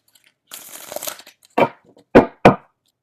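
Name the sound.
tarot cards being shuffled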